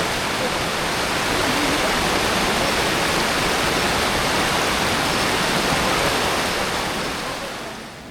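Bohyeon waterfall on Naeyeonsan mountain roars in a steady, dense rush of falling water, loud and close, fading slightly toward the end.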